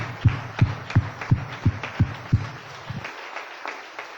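A church congregation applauding in strong, steady rhythmic claps, about three per second, that fade into a softer wash of clapping toward the end.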